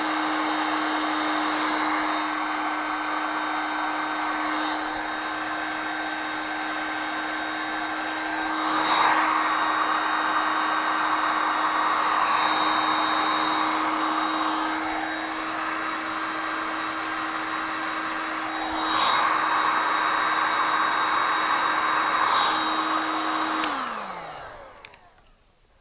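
A heat gun blows hot air over 4-to-1 heat shrink tubing during a wiring harness rebuild on a 1987 Olds 442, a steady loud whirring rush that swells slightly in places and cuts off with a falling whine at the end.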